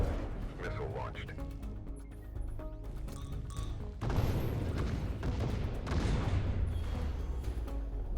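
A missile launch in the Beachway Beta video game lands as a sudden burst of blasts and rumble, loud and close, with a crashing swell midway, while a voice speaks over the game sound.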